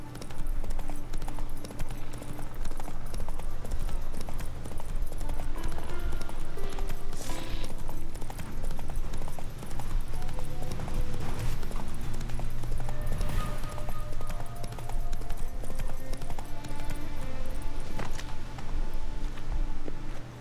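Geralt's horse Roach gallops in The Witcher 3 game, hooves clip-clopping in a quick steady rhythm that runs on without pause, mixed with game ambience and occasional sharp effects.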